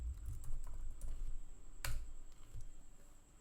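Several quick keystrokes typed on a computer keyboard, entering a short word into a chat message box, with light scattered clicks and a single sharper tap partway through, close and fairly quiet.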